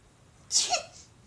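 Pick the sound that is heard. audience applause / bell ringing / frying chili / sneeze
sneeze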